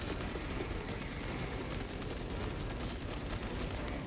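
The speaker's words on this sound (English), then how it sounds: "in this game, these don't sound like bolters at all, dude. Like, that's like a machine gun" Heavy bolter fire in a Warhammer 40K Space Marine game, a dense, unbroken rattle of rapid automatic shots, loud and close, like a machine gun sustained for several seconds.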